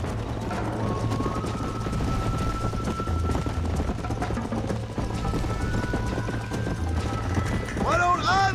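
Horse hooves gallop in Red Dead Redemption, a fast steady clip-clop running under continuous game music and ambience, with a brief whinny-like sound near the end.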